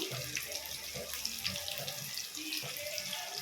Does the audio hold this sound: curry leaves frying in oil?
yes